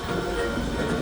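A train stands at platform 1B of a station, giving off a steady low rumble and rail noise, with no talk over it.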